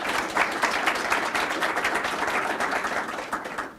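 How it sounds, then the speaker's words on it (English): A seated audience at a county budget presentation gives the council a round of applause, a dense, continuous wash of many hands clapping that holds steady for a few seconds with no talking. "if we can give the council a round of applause, that'd be great."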